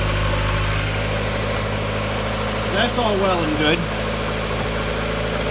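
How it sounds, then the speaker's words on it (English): A cold 1994 Mazda Miata engine idles at an elevated speed, a steady low hum running throughout while a person talks briefly over it. "once the engine is warmed up, it should idle at or below 1000 RPM"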